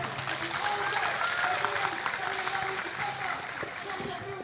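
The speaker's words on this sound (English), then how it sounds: "A round of applause for" Applause at a sit-in protest over human rights in Manipur, a continuous crowd clapping under a steady murmur of voices and some tonal background sound, fairly faint and sustained.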